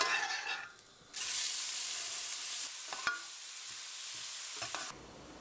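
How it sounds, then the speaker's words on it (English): Butter and olive oil sizzle in a pan, a steady close hiss that starts after a brief lull, with a few light stirring clicks and scrapes. "I usually start by melting a good amount of butter and then add olive oil"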